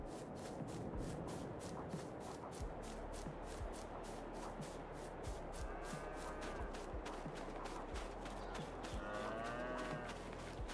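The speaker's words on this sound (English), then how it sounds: "Milk cows, how you all doing?" Dairy cows in Farming Simulator 22 moo repeatedly at moderate distance over a steady low farm ambience, with no talking.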